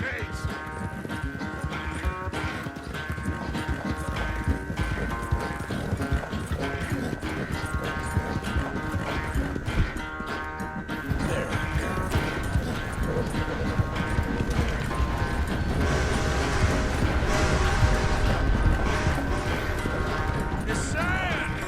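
Horse hooves clip-clopping in Red Dead Redemption 2 on PS5, a steady rhythmic trot running throughout alongside game music and ambient sound.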